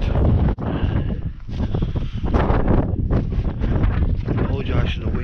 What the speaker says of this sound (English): Apologise for the wind.